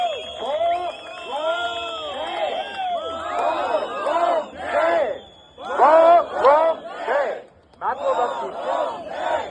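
A crowd at a street protest rally in Tbilisi shouts and cheers loudly in repeated rhythmic waves of chanting voices, close and sustained.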